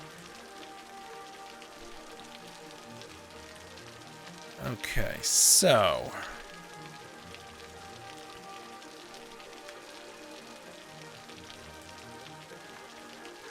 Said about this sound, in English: I did turn the dynamic weather on, obviously. So now it's raining.